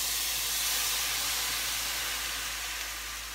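Wine boils hard in a pan with brown bits on the bottom, a steady close hiss of bubbling and steam that fades slightly toward the end, no talk.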